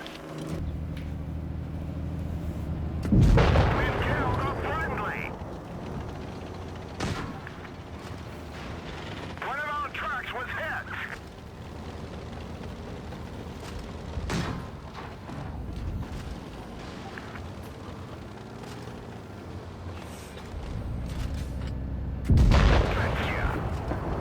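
Deathstar tank cannon in World of Tanks Blitz fires two loud, booming shots, one early and one near the end, with quieter engine rumble and battle noise running between them.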